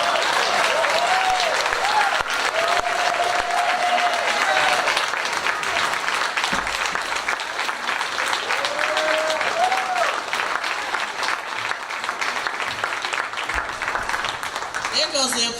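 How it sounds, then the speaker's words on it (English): Gala audience at an anniversary celebration applauds after a spoken word performance, sustained dense clapping with some whoops and voices calling out over it. "There goes the applause."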